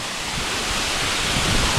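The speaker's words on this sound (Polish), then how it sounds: "Wodospad jest ładny." A waterfall at a Colombian coffee plantation pours into a shallow pool, making a steady, loud, broadband roar of rushing water with no breaks.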